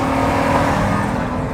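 A Chevrolet Opala engine revs loudly and steadily up close, a continuous throaty drone that holds for the whole short stretch with no voices over it.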